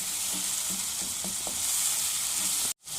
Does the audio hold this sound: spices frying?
yes